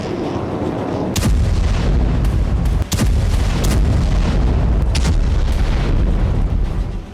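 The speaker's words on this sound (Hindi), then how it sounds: "सीरिया बॉर्डर पर जबरदस्त धमाके किए जा रहे हैं" Heavy booming explosions from Israeli bombardment near the Syria–Lebanon border, several sharp blasts at irregular intervals over a constant loud rumble, no voices.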